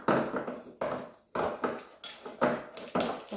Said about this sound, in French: on va venir écraser et mélanger tout ceci